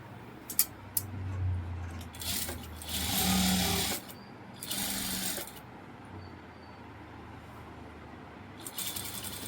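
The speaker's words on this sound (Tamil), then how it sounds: "அதே மாதிரி தான் இதுவும் தைச்சு திருப்பி போடணும்" An electric sewing machine stitching a blouse neck whirs in short bursts separated by pauses, with a few small clicks and rattles between runs.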